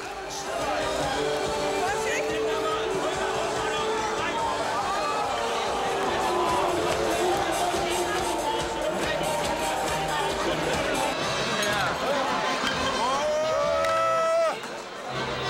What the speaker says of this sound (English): Here in a genuine Bavarian beer hall on the fairgrounds.